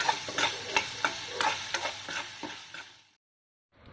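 Garlic, groundnuts, curry leaves and red chilies with dal stirred and fried in a pan for garlic fried rice, with repeated scraping strokes over a steady sizzle, then a brief silence.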